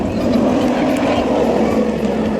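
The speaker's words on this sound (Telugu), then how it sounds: "Helicopter size roller castor." Large roller coaster at Wonderla amusement park, a loud steady rumbling roar of the cars running along the track, continuous and close.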